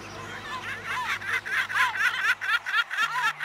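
Seagulls gather at breakfast time in the garden of a geriatric care centre, giving a rapid series of sharp, laugh-like calls close by, with a faint low hum underneath.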